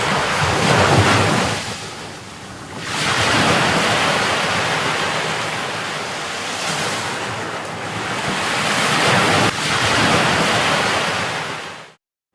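Surplus water released from Chembarambakkam lake near Chennai after continuous rain rushes in a loud, continuous roar with buffeting wind noise on the microphone, ending abruptly.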